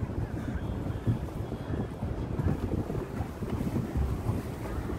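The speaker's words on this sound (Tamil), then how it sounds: "boat ride" A boat ride on the lake at Chetpet Eco Park brings steady, close rumbling water and buffeting wind across the microphone, a continuous low churn that rises and falls slightly without speech.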